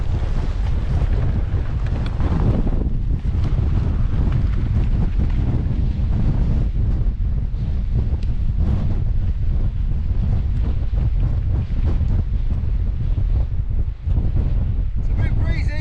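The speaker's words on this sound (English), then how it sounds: "It's a bit breezy." Strong wind buffets the microphone on an exposed mountain ridge, a loud continuous roar with gusty surges throughout.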